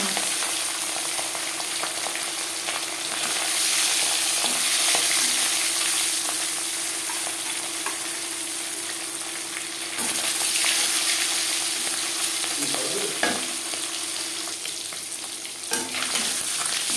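Marinated fish pieces fry steadily in hot refined oil for a Bengali fish curry, a dense, continuous close sizzle with spitting crackles and occasional scrapes, loud and unbroken, with no voices.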